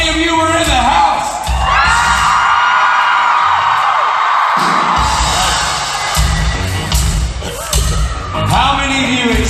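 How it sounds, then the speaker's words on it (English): A convention opening-ceremony audience screams and whoops together in a loud, sustained roar of yelling and cheering, with a strong voice rising over the crowd in places. "Let's make that a real blood-curdling scream."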